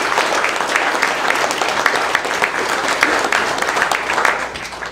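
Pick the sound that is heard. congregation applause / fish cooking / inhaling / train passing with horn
congregation applause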